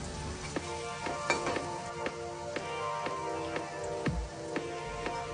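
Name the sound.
salted fish frying in hot oil, being stirred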